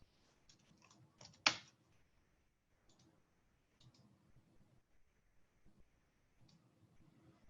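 Keys clatter in uneven bursts of typing on a computer keyboard, with one sharp louder tap standing out early, then sparse clicks and short runs of keystrokes, close and fairly quiet.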